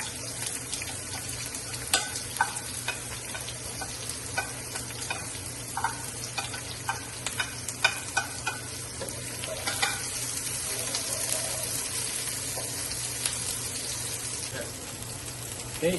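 Onion and garlic sautéing in a pan, a constant low sizzle with scattered light taps and scrapes of stirring, moderately close and fairly quiet.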